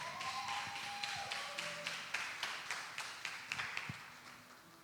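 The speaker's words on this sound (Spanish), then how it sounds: "Marilien, así que le damos un fuerte aplauso." Audience clapping at an evening church gathering, faint and fairly distant, with steady rhythmic claps that continue throughout without any voices on top.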